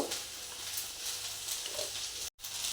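Vegetables fry in a pan for a veg biryani, a steady broadband sizzle that holds evenly throughout, broken by one very brief dropout near the end, with no voices.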